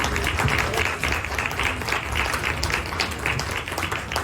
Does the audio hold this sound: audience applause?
yes